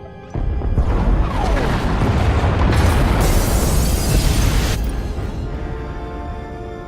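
Pod bays are destroyed by a long, loud roaring explosion in Star Wars: The Old Republic. A sudden blast starts it, then a sustained crashing rumble runs for several seconds before it slowly dies away.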